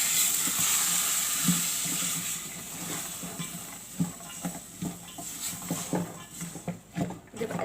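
Spice mix of red chili, coriander powder, salt, turmeric and dried fenugreek stirred in a pan for chana dal, a soft sizzle under close scraping and tapping strokes that grow more frequent toward the end.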